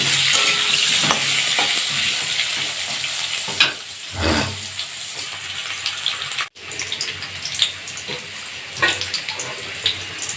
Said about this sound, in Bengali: তেল গরম হয়ে গেছে, একটু হলুদ দিয়ে দিলাম। এবার আলুগুলো দিয়ে দেব।